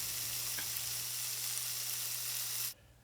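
Onions and mushrooms frying in a pan for Salisbury steak, a steady even sizzle with a low constant hum beneath, cutting off abruptly near the end.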